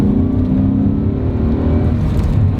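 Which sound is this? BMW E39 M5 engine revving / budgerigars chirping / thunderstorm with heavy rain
BMW E39 M5 engine revving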